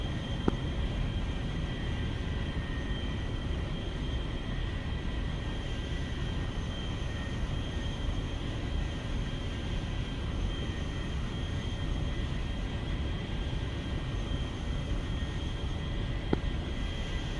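Steady, droning engine noise from an aircraft taxiing for takeoff in the DCS flight simulator game: a constant low rumble with a thin whine on top, unbroken and even throughout, with no voices.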